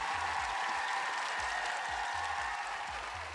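Steady applause from a crowd, a dense wash of clapping that holds at an even level throughout.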